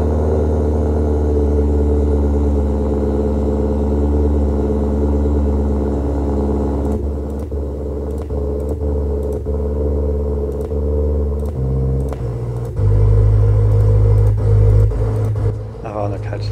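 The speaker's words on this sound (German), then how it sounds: "auch eine Kaltstart, aber sehr geiler Klang" A BMW car engine cold start, idling with a deep, steady rumble, then revving and shifting in pitch, loud and close, with people talking over it.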